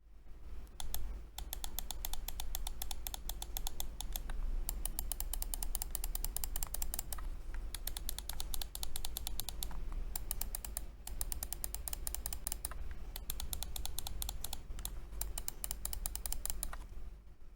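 Side buttons on Viper Mini and G305 gaming mice clicked in rapid bursts, a dense run of sharp close plastic clicks separated by brief pauses, one switch snappier and the other noisier.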